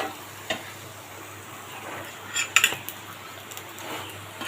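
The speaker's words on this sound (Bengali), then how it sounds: "আমার এটি ভাজা হয়ে গেছে আমি এখন মিশিয়ে নেব" Egg paratha mixture being stirred in a frying pan, with a soft background sizzle and a few light utensil scrapes and taps clustered near the middle, fairly quiet overall.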